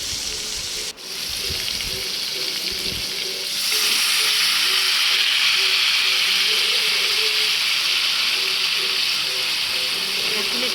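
Cut potato and eggplant cook in a pan for a curry, a soft hiss that jumps to a loud, steady, close sizzle once the vegetables hit the hot oil.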